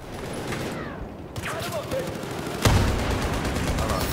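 Gunfire in the Battlefield 4 multiplayer shooter, bursts of shots with a sharp loud report near the middle, set against busy battlefield noise while a voice talks.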